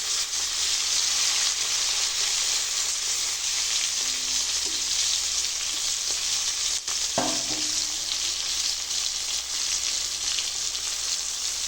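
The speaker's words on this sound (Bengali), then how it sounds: "তার আগে টমেটোগুলো একটু ভাজা করে নিই" Chopped onions and tomatoes sizzle in hot oil, a dense continuous hiss with occasional stirring clinks and scrapes of a utensil, close and loud, with no voices.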